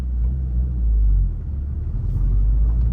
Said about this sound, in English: Put it in first gear. Blip the throttle.